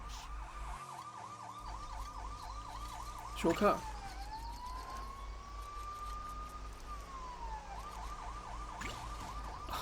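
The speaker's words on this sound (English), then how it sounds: "Ooh, sirens." Police sirens wail in the LEGO City Undercover video game, a repeating warble that shifts into a long sweeping tone and back, fairly loud over game engine noise, with a brief spoken word partway through.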